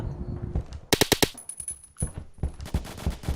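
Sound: gunfire in the video game Phantom Forces

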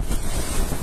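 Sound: strong typhoon wind

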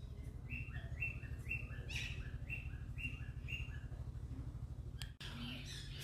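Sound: pheasant calling in a zoo aviary

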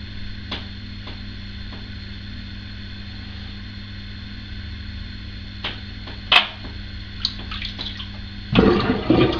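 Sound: tap water running and sink draining

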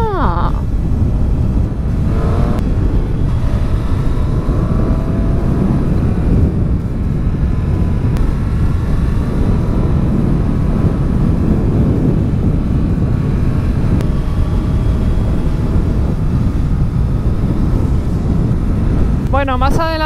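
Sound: Triumph Street Triple RS motorcycle engine while riding

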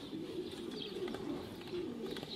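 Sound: racing pigeons landing at loft

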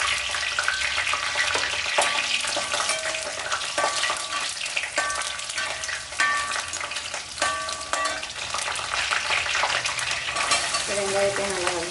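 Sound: frying bay leaf, cinnamon and curry leaves in a pan

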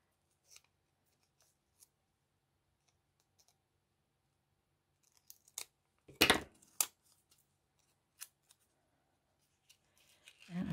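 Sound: scissors snipping paper craft stickers

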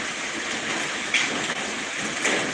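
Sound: rain falling

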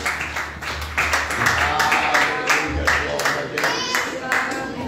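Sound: church congregation clapping

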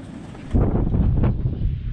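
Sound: strong gusty wind

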